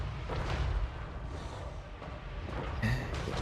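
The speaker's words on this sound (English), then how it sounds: "we're tagging up the infantry pretty nicely with that other cannon" Cannon artillery booms during a Total War Warhammer 3 battle, several dull low thuds spaced irregularly over a rumbling battlefield din, with a sharper impact near the end.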